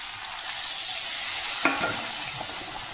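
Eggplant pieces sizzle steadily in oil in a curry pan, a constant frying hiss with a sharp scrape of stirring near the middle and a few lighter knocks after.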